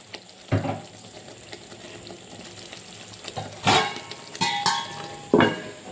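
Egg gravy curry with green chilli cooking in a pan, a soft steady sizzle with a few sharp clinks and scrapes of a spoon stirring against the metal.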